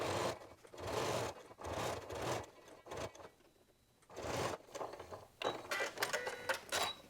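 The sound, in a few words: sewing machine top-stitching a fabric loop garland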